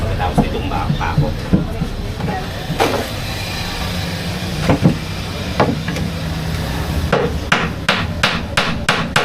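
Hammer striking a nail during a building project, scattered sharp knocks through the clip, then a quick run of five or six blows near the end, over a constant low background rumble.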